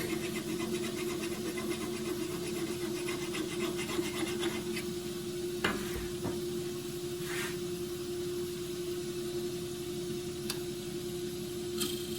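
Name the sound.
honing a woodturning tool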